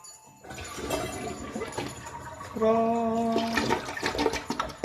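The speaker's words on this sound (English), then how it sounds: "We'll waste a flush." A toilet at an off-grid camp flushes with a rushing gurgle of water that rises midway into a louder swirling drain with a whining refill tone, heard close and alone.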